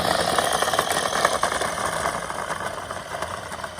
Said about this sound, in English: listen on how bumpy it sounds on the road.